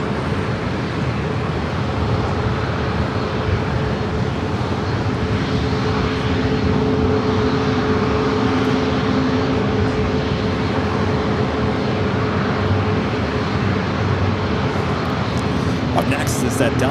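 A Boeing 737 MAX 9 bound for Kona rolls for takeoff at San Diego airport, a steady broadband jet roar with a low engine hum holding loud and even throughout, a voice talking faintly over it.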